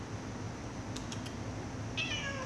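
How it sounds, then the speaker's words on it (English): A cat meows faintly over a constant low hum, with a few thin vocal bursts near the middle and a short meow toward the end, quiet and somewhat distant. "this annoying kitty here"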